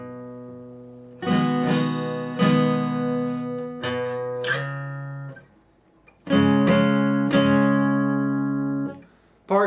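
Electric guitar playing the tenth part of a song intro slowly, in separate bursts of ringing chords and notes with pauses between phrases, clear and close with no talking.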